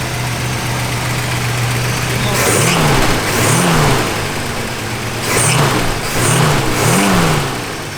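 A 1966 Chevrolet Nova with a pump-gas engine accelerates on the road, a steady engine drone broken by several rising revs as it climbs through the gears, close and loud.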